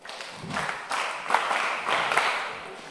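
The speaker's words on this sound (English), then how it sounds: "Clap for him." An audience at a mentorship session claps for a participant, a loose, moderately quiet patter of hands that swells slightly midway and carries on to the end.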